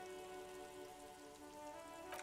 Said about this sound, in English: Urban coastline, rain dripping off Eternite-covered roofs